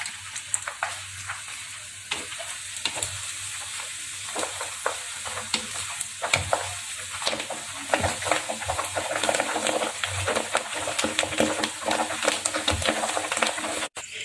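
Ponnanganni greens stirred and frying in a hot pan, a steady sizzle with repeated scraping stirs throughout, close and fairly loud, no talking.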